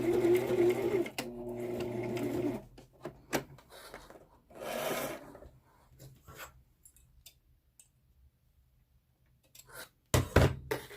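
A sewing machine back stitches a face mask in a short fast burst of needle chatter, followed by sparse clicks, thumps and handling of fabric, with a final loud thunk near the end.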